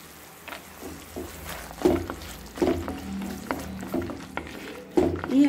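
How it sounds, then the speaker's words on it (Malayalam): Dragon chicken with tomato sauce and cashew nuts is tossed and stirred in a pan over a high flame: rhythmic scrapes roughly every second over a steady sizzle, close and fairly loud. "ഇനിയും ഇതൊരു ഹൈ ഫ്ലെയിമിൽ ഒരു 30 സെക്കൻഡ് നമ്മൾ നന്നായിട്ട് ഇളക്കി കൊടുക്കാം"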